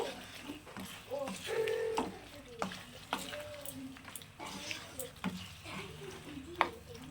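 Chicken korma with spiced yogurt cooking down in a pan, with faint sizzling, scattered spoon scrapes and knocks, and a voice talking quietly through part of it.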